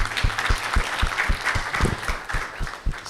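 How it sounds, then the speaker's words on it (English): An audience at an annual convention session applauds a panel, a steady, close wash of many hands clapping at a brisk, even pace that carries on throughout without any talking. "A round of applause for our panel."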